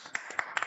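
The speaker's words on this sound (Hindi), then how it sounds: "जोरदार तालियों के बीच में सर का स्वागत करते हैं।" Scattered clapping from a few participants on an online agro-care products training call welcoming the trainer, several sparse, faint hand claps in an irregular rhythm.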